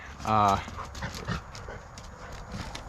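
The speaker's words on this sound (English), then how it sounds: "dogs are getting a little crazy behind me" Excited dogs on a winter homestead give one loud, drawn-out bark or yelp near the start, followed by quieter scuffling and faint background noise.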